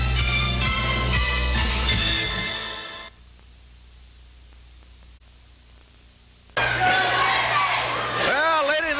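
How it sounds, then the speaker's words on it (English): A 1983 Southwest Championship Wrestling arena crowd chants and shouts loudly in rhythmic bursts, cutting out to near silence for a few seconds before the noisy roar returns. "you hear the chant in the background, USA, USA"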